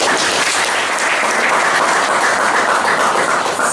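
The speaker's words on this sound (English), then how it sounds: "Join me in giving her another hand clap." A conference audience gives sustained applause for a speaker, loud, dense and even clapping from many hands filling the whole stretch without pause.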